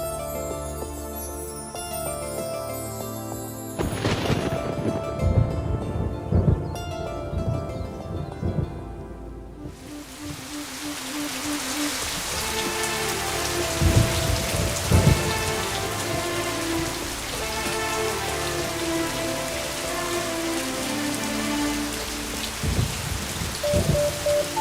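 Heavy rain pours onto surfaces in a Kannada movie scene, a dense steady hiss with loud rumbling thunder cracks breaking through at intervals, and no voices.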